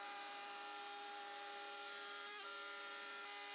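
A CNC router cuts through plywood with a steady, high whining drone that stays even throughout, close and continuous, with a small shift in pitch partway through and no voices.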